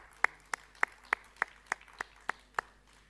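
An audience at a world record event in Nepal claps together in unison, making about nine sharp, evenly spaced claps that sound fairly faint, with no talk over them.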